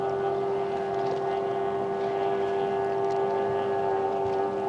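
Two 1800cc racing boats' engines at a Paynesville Gold Cup race, a steady droning whine heard from a distance, sustained and even throughout.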